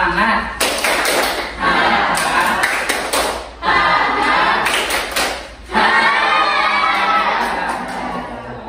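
Primary school class in a science lesson doing the 'tepuk semangat' clapping chant, bursts of rhythmic group clapping and children's shouting in a room, separated by short pauses.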